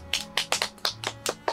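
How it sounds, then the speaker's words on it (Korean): Seven crisp hand claps in an even, slightly uneven rhythm, fairly close and moderately quiet, with a faint steady hum beneath at a hanok-style campground. "박수 쳐야지."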